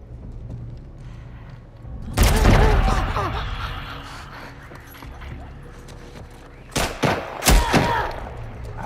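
Gunfire in the video game The Last of Us Part II, a heavy burst of shots around the middle followed by several sharp separate shots later, with quieter game sounds between.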